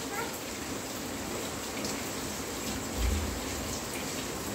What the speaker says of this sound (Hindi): आज के दिन देखिए कितनी तेज़ बारिश हो रही है